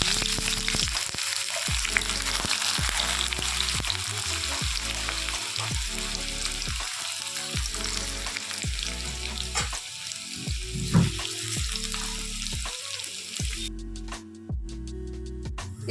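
Sliced onions frying in hot oil for a chicken dish, a continuous crackling sizzle close by, broken by a regular series of low scraping stirs, with the sizzle thinning near the end.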